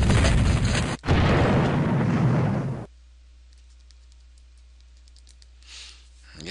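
Artillery fire and explosions in the Civil War Generals 2 game at Bull Run, a loud sustained rumbling blast with a sharp cut near the start, then abruptly dropping to faint scattered clicks and a soft swell.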